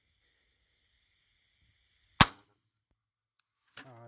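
A single sharp revolver shot firing a 7.62x25 steel core round, a brief loud crack after quiet with a faint steady whine, followed by a short vocal sound near the end.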